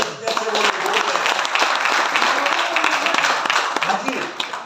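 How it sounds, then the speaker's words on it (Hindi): Dense applause from a seated audience at a motivational talk, steady and fairly loud throughout, with a voice faintly under the clapping. "और जल्दी से एक बार ताली होनी चाहिए भाई।"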